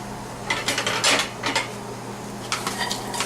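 Onions dropping into a large dry pan with no oil yet, heard as a few bright clattering clinks and scrapes of metal cookware, close and fairly loud, no talk.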